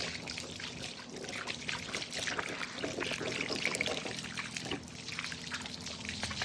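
Water poured steadily over a dog being bathed in a basin, a continuous close splashing and trickling stream that keeps a fairly even level throughout.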